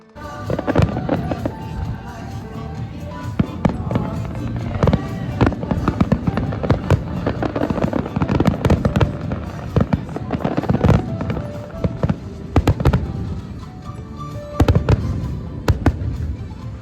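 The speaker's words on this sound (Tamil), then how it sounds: "நாங்கள் கரெக்டாக போயிருந்த நேரம் பார்த்திங்கன்னா வெடி வெடிக்க ஆரம்பிச்சிட்டாங்கங்க" Fireworks burst at a fair, a dense run of sharp cracks and booms at irregular intervals, loud and close, with crowd noise and voices underneath.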